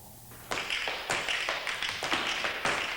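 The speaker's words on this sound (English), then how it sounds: "The sound is tap dancing." Crisp, rapid tap-dance steps clatter in quick irregular rhythms, bright clicks of shoes on a hard floor, close and alone.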